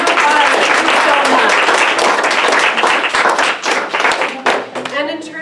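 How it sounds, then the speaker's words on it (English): An audience gives a loud, dense round of applause at a business presentation, steady clapping that fades toward the end as individual claps stand out. "Let's give them a round of applause."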